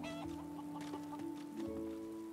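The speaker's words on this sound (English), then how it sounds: "there's some chickens" Chickens in the fantasy role-playing game Divinity: Original Sin II cluck in short repeated bursts over a quiet ambient background, with no talking.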